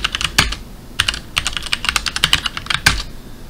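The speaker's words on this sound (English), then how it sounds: "I typed my password wrong. Let's try this again." Someone types a password on a computer keyboard at a Ubuntu login, with quick irregular bursts of crisp key clicks, close and clear, with short pauses between groups of strokes.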